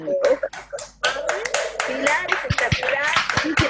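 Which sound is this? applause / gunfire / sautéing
applause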